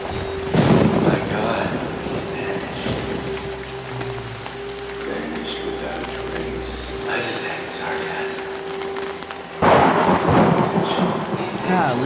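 Thunder rumbles through a rainy storm in the horror video game Outlast, a low rolling boom under steady rain, loud and continuous, while a player talks over it.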